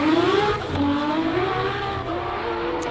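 A race car in the big-engine B5 class at the Simola Hill Climb roars hard up the hill, its loud, close engine note rising and shifting as it accelerates, with no voices over it.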